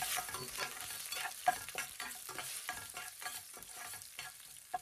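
Two dried red chillies frying in hot oil with popped mustard seeds, urad dal and chana dal for a spinach poriyal, making a steady close sizzle with repeated light stirring scrapes and an occasional sharp pop.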